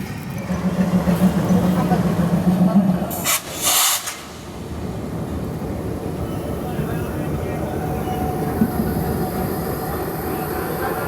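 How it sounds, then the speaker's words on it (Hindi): The Mumbai Hyderabad SF Express arriving at Daund Junction, a steady rolling rumble of railway cars with a faint squeal early on and a brief burst of hiss, while a voice talks over it. "आठ बजकर 20 मिनट पर हमारी ट्रेन पहुंची है दौंड जंक्शन"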